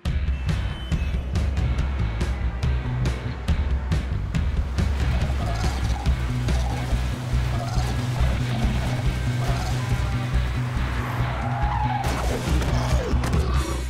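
A car speeds off with skidding, squealing tires, a loud continuous engine roar with harsh screeching bursts, sharp impacts and clatter layered over it.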